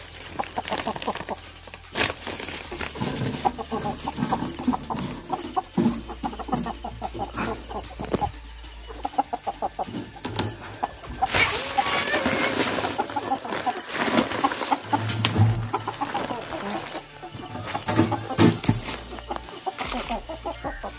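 Free-range country chickens cluck repeatedly at dawn just after being let out, with some wing flapping among the birds; near, busy calls continue throughout over steady outdoor background.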